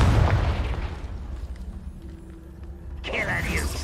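Confringo blasting spell going off in Hogwarts Legacy, a heavy booming burst with mechanical rattling that fades into a low rumble before another bright magical flare, with a voice speaking.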